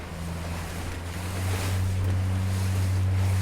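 A beach boat's engine on a herring drift-netting trip drones low and steady, rising in pitch and loudness midway as it revs against a strong tide, with wind and sea noise around it.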